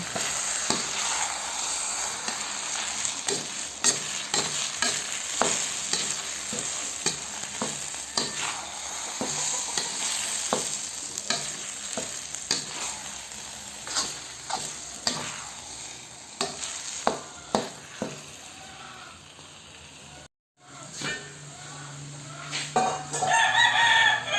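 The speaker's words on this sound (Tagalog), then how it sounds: "pagkatapos natin ilagay lahat ng malagkit, haluin lang natin ito." Steady scraping and soft clicking of a spoon stirring glutinous rice for arroz caldo in a pot, repeating irregularly for a long stretch, with a brief drop near the end.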